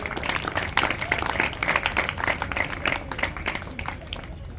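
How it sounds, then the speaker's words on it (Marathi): An audience at a felicitation event applauds with dense, sustained clapping that continues steadily throughout and tapers slightly toward the end, heard from within the hall. "पुन्हा एकदा टाळ्यांच्या गजरात"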